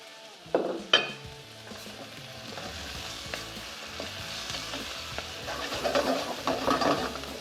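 Squid is stir-fried in a hot pan for chilli squid spice bag. A steady sizzle runs under sharp clanks of utensil on pan, with the frying growing busier toward the end.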